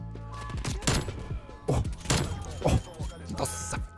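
Barrett sniper rifle shots in a video game, several sharp, heavy booms spaced about a second apart, each with a short ringing tail and metallic clatter between, with a player's voice faintly underneath.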